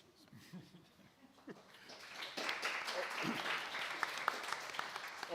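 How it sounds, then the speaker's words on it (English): An audience bursts into applause for Marco Zanero as he takes the stage at a conference session; the clapping starts thin, swells after a couple of seconds into a dense, steady roar of many hands, and carries on to the end. "let's give a thunderous applause to Marco Zanero as he takes the stage"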